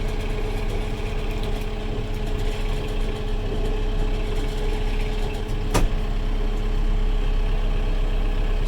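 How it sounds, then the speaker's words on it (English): A Kubota tractor engine runs steadily while a chain tugs a cedar tree back and forth during land clearing, giving a continuous low rumble with one sharp knock near the end. "we're just going to keep moving the tree back and forth with the chain and with the tractor."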